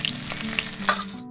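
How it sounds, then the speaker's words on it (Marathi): Cumin seeds crackle and sizzle in hot oil during a tempering with mustard seeds and chilli, a dense steady frying hiss close by with light stirring taps, no talk, cutting off sharply at the end. "आता जिरं,"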